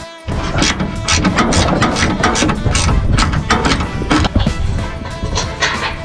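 Exhaust fittings on a lowered Nissan D21 Hardbody pickup are tightened, a busy run of close metallic clicks and ratcheting taps continuing steadily over a background hum.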